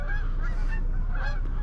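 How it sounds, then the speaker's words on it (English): A big flock of geese flies overhead, honking continuously in overlapping calls, loud and close, over a low rumble of wind outdoors by the water on a New Year's Day fishing trip. "here goes the geese, folks"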